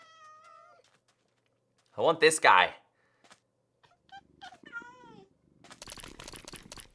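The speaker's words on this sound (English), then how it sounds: "Okay, we got a cat." A cat in the Minecraft video game gives a short, clear meow, preceded and followed by someone talking close to the mic.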